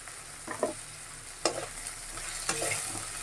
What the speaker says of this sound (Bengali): এবারে কিছুক্ষণ আমি লাড়াচাড়া করে টমেটোটা আমি ভালোভাবে নরম করে দেবো